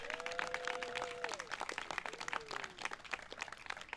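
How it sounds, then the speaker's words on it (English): A crowd applauds at an outdoor groundbreaking ceremony for a stormwater park and creek restoration, steady clapping filling the whole stretch with a brief tonal sound early on. "Let's give them a round of applause."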